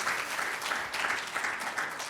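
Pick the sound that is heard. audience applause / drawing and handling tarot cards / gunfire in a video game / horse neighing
audience applause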